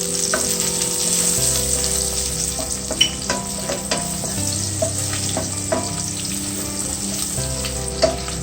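Onion and garlic sizzle steadily in hot oil in a pan with turmeric for Chettinad crab masala, with occasional spoon stirs and scrapes clicking against the pan close by.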